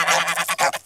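Zoo geese give a quick run of loud, nasal honks in a close, rhythmic burst with no voices over them.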